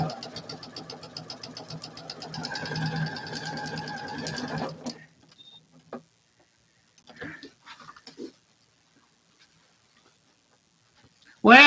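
A sewing machine runs steadily as it stitches fabric, with a dense, even mechanical whir for about five seconds before it stops. Only a few faint clicks and small handling sounds follow.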